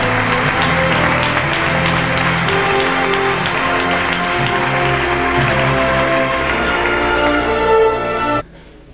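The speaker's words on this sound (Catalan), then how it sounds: "un fort aplaudiment per ells" Loud, sustained applause from an audience at the Ciutat d'Igualada 2003 awards, dense clapping filling the room over music, cut off abruptly near the end.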